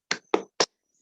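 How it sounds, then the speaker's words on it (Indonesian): Three sharp, evenly spaced claps ring out close and alone in a classroom, the start of a children's tepuk semangat clapping chant, with clean silence between each hit. "kita tepuk semangat dulu ya, anak-anak"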